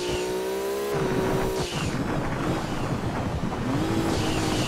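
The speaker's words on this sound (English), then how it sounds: "There goes the rally car" Rally car engine in Gran Turismo 2 on the Smokey Mountain North stage, a revving motor with gear shifts and pitch rising and falling, loud and near amid rumbling tire and road noise.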